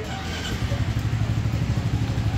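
A Royal Enfield Meteor 350 single-cylinder motorcycle settles into a steady, low, pulsing idle nearby after starting, its even thump continuing throughout with no talking.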